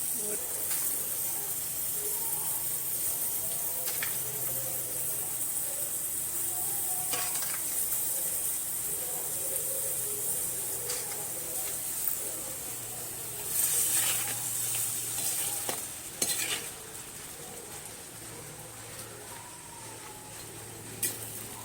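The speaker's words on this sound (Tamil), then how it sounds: "இப்போ அம்மா கறி எடுத்து இதில் போடுறாங்க" Mutton sizzling in a clay pot over a village cooking fire, a steady close hiss that swells when meat is added, with scattered stirring clanks and faint background voices.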